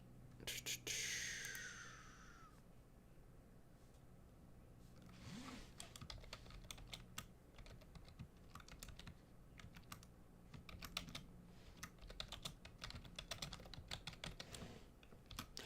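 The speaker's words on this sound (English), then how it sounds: "Do you guys hear my keyboard a little too loud?" Rapid clicking and tapping on a computer keyboard carries on in irregular bursts during a live futures trading session, faint but steady and close, with a soft murmur of speech underneath.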